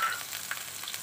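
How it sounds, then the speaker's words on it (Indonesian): Spices stir-fried in a little oil in a wok, giving a steady hiss of frying with faint scraping stirs, fairly quiet and close, with no talking. "Wajan, lalu kita kasih sedikit minyak, lalu bumbunya ini kita oseng."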